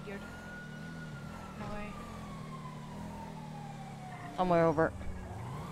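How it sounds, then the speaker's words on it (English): A siren wails steadily in the distance, its tone slowly falling, beneath a constant engine-like rumble, while people talk briefly over it. "It's over where the sirens are."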